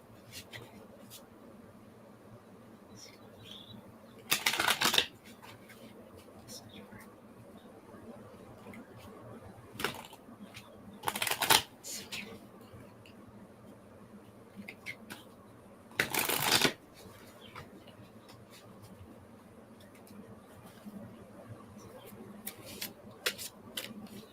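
Oracle cards are shuffled in three short, crisp riffling bursts during a spiritual card reading, with quiet talk and soft handling noises between them.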